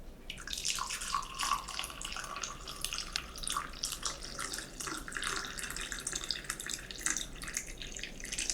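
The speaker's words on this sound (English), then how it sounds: "So let's go ahead and pour a cup here." Tea poured from a pot into a cup, a continuous close trickling stream of liquid splashing with a bright watery texture, steady throughout and without any voices.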